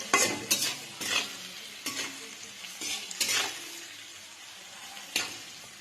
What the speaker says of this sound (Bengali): এখানে দিয়েছি পেঁয়াজ কলি আর গাজর ফ্রাই করছি।